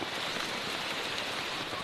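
Steady rain falls in a tropical rainforest, a dense even hiss of drops on leaves and surfaces with no pauses.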